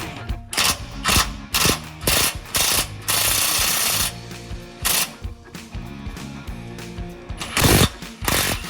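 An impact or power tool rattles in short bursts, backing out 10mm bolts from plastic bumper trim on a Lexus GX during a receiver hitch install, with choppy mechanical whirring broken by brief pauses, loud and close.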